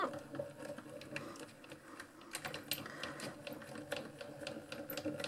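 A small card-making machine runs close up during birthday card crafting, giving a quiet, fast rattling patter of clicks over a low hum.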